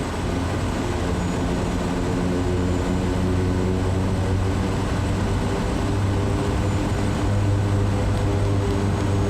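A propeller aircraft engine drones steadily while taxiing in Microsoft Flight Simulator 2020, a loud, constant hum with strong low tones and no talking.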